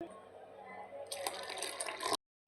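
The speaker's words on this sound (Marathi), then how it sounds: "त्याच्यात थोडंसं पाणी टाकायचं अजून." Water poured into idli batter in a vessel, a faint splashy trickle that grows louder before stopping abruptly, followed by a brief knock.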